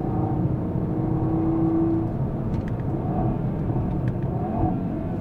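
A 2016 Audi TT RS runs behind a pace car on a race track, its engine giving a steady, close, droning rumble with a brief rising tone, faint ticks on top, and no speech.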